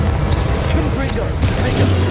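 A Confringo spell explodes in the video game Hogwarts Legacy, giving a loud, dense rumbling blast with booming low end that continues under overlapping game voices.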